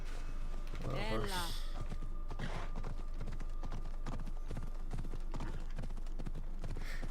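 Horse hooves clip-clop steadily in Assassin's Creed Odyssey, a close rhythmic walking beat over constant game ambience, with a whinny early on and a voice talking over it.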